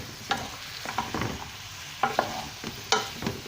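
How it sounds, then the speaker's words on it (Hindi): Fish and potatoes are sautéed over high heat for a Sindhi fish potato curry, with a steady sizzle punctuated by repeated close spatula scrapes and stirring clatter in an irregular rhythm, and no speech. "अब आग करेंगे तेज़, हम उनको भून लेंगे ताकि ये बहुत अच्छी तरह से गर्म हो जाए।"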